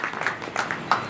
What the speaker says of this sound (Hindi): मुद्दे जोरदार तालियों से उनका अभिनंदन करें